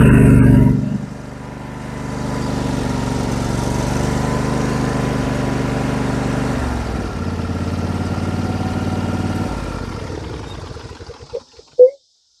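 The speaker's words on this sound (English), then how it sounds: "That is the nice engine." An MTD 21 hp lawn tractor with a Briggs engine runs steadily at a loud, close idle. The engine note shifts partway through, then winds down, and a couple of sharp clunks come at the end.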